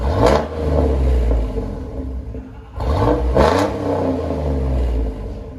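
Deep, throaty exhaust from a 2003 Chevy Silverado 4.3L V6 fitted with a Flowmaster Super 10, revved twice in quick succession with a rumbling idle dip between bursts, loud and close.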